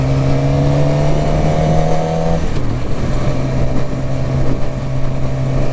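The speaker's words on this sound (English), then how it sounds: "it's probably the loudest exhaust on a bike that I've heard recently" A Suzuki GSX-R600 motorcycle with a stock exhaust runs loud and close, holding a steady engine tone that drops and shifts midway, as if changing gear, then carries on.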